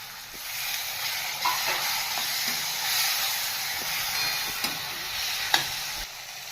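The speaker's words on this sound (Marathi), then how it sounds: "आता आपण याच्यामध्ये दोन मोठे आकाराचे टमाटर घेतलेले आहेत ते टाकून" Two large tomatoes hit a hot pan of spiced masala with coriander powder and garam masala, giving a steady sizzle and hiss with faint stirring clicks, close and continuous, no voices.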